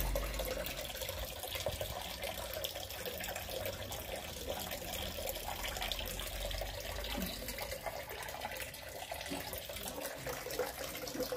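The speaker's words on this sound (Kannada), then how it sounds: "ಅರ್ಬಿ ತೊಳ್ಯಾಕೊಂಡ ನೋಡ್ರಿ, ಮತ್ತೆ ನೀರು ಹೋಗ್ತಾವ ರೀ" Steady running tap water splashes and hisses continuously as taro root (arbi) is washed under it, with a close, even rush throughout and no clear talk.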